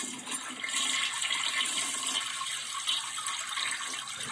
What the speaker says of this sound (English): I don't feel like the sound of a toilet flushing is particularly gross